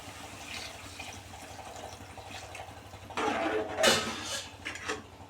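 Water is poured into a pan of mushroom and paneer curry partway through, a brief splashing gush amid light clinks of utensils, close by with no talking.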